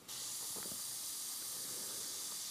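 An airbrush sprays paint in a steady high hiss that starts abruptly and runs continuously, with faint low knocks and handling noise underneath.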